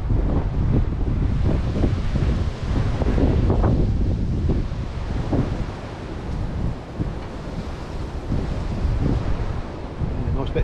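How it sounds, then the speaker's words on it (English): Strong wind blows outdoors during cold sleet or snow on a pike fishing trip, roaring and buffeting the microphone continuously and loudly with a surf-like rush throughout. "And wind as well, it's terrible."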